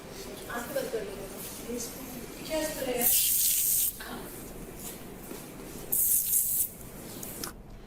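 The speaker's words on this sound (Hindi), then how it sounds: "तो अब आप वहां टेबल पे रखे स्प्रे को इन दोनों के फेस पे स्प्रे करें।" Two long, loud hissing bursts of spray are aimed at people's faces on a TV show set, each lasting under a second, with a voice talking before and between them.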